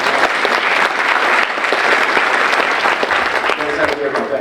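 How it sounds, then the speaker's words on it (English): A hall audience claps loudly and continuously for award recipients at a high school senior awards ceremony, with scattered voices under the dense clapping. "big round of applause for these gentlemen"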